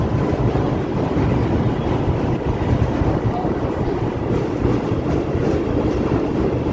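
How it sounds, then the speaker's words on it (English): A Chicago Green Line elevated train pulls out of a station at noon, a continuous rumbling roar of wheels and cars with some wind buffeting, close and loud. "so here's the train pulling out of the station here."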